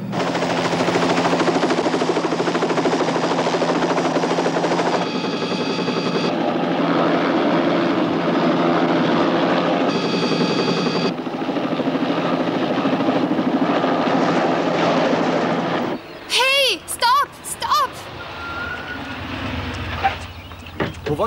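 A loud, continuous rotor-and-engine roar of a helicopter in flight in a Knight Rider scene, with bursts of gunfire and whooshing effects near the end.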